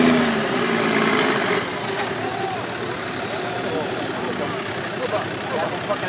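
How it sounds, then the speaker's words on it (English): A Dodge Cummins diesel truck engine rumbles nearby at an outdoor truck event, a loud throaty drone that eases after a couple of seconds, with people talking over it. "That's a big ass truck"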